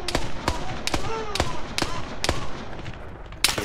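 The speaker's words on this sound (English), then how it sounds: "Someone's shooting at me." Sharp gunshots ring out in a video game, about eight single cracks spaced roughly half a second apart with brief echoing tails, the last one louder.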